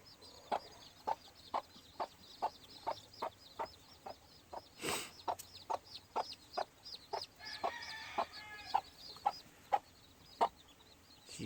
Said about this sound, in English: mama hen's clucking away